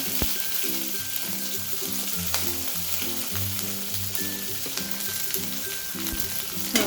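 Chopped onion, ginger, garlic and chili sizzling loudly in hot oil over a high flame, a dense continuous crackle close by, with a faint rumble underneath and no talking.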